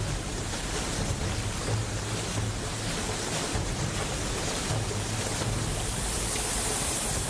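Grand Canyon river rapids roar in a steady, dense rush of churning water, loud and close with no break or change, and no voices.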